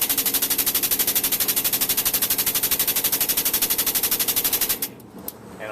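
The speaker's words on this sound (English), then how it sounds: "I can hear some ripping going on in there. Most likely it's my block of wood that's getting butchered." A wooden block rips apart under a demolition derby car as a rapid, steady, loud rattling clatter that runs for about five seconds and then cuts off, with no talking.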